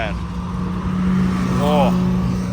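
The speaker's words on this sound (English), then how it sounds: "Check out the Enzo coming" A Ferrari Enzo supercar passes on a Miami street during a supercar weekend, its engine note rising and swelling to a loud steady drone amid crowd noise, with voices and a brief whoop audible near the middle.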